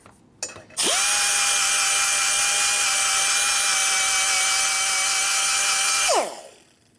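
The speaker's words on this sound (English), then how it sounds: "drilling into a hole. I hate that." A power drill whines at a high steady pitch for several seconds drilling into a hole on a 1980 Harley-Davidson Sportster engine, then winds down, preceded by a brief rattle at the start.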